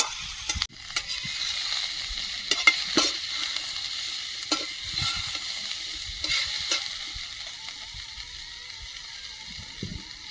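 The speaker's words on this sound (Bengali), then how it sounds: "এবার ডাঁটা দিয়ে খুব বেশি ভাজবো না ডাটা আর পেঁয়াজটা এখন দিয়ে দিচ্ছি" Vegetable stalks and onion go into a pan for a village-style dish, giving a soft, even frying hiss with a few scattered knocks and stirring scrapes against the metal.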